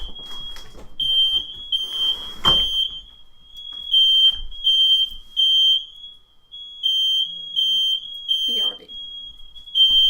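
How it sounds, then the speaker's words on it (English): High, piercing smoke detector alarm going off inside a house, sounding in repeated bursts with short gaps, while a person talks and moves about nearby. "If I set off the fire alarm in my house, in my room, the entire house will be fire alarmed."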